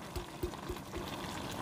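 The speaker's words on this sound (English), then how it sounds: "We're going to just dump that in." Pasta sauce glugs from a jar into a Ninja Foodi pot while lasagna soup is being made, giving a few soft, wet plops and a thick pouring sound close up, with low background hum and no talking.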